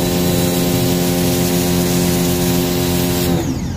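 A loud, continuous machine whine and hiss of a Lotus pressure washer spraying water, holding steady before the motor note drops away at the very end.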